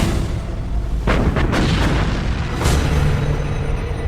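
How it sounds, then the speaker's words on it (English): Battleship Bismarck firing its big guns at sea, several heavy booming blasts rolling out in quick succession over a constant loud rumble. "Bismarck opens fire."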